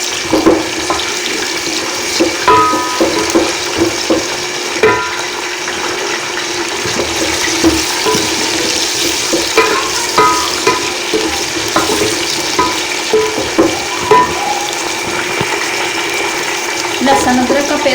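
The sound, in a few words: chicken frying in hot oil for biryani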